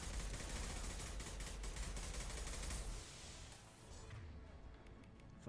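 Rapid automatic gunfire from the video game Mass Effect Legendary Edition, a dense loud barrage for about three seconds before dropping to quieter combat noise.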